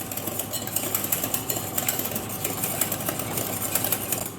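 A soufflé mixture being whisked until frothy, likely with an electric mixer, a steady mechanical whir with rapid rhythmic clicking, moderately close and unbroken.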